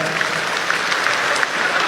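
Loud, close applause from a comedy show audience in Indonesia, a brief dense burst of clapping with a few sharper individual claps standing out.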